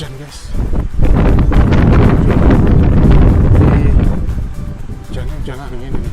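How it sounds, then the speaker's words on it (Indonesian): Wind-driven rain at a Japanese fort in Sabang, Aceh, loud gusty rumble and buffeting against the microphone across the whole stretch, with a person speaking briefly over it. "Hujan angin ini."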